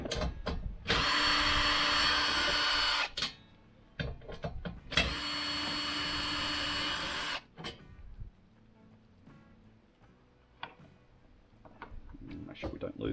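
Power drill running during installation of OCAM rear drawers in a Toyota Prado: two long steady whining bursts of a few seconds each, separated by clunks and handling noises, then quieter tool clatter and rustling.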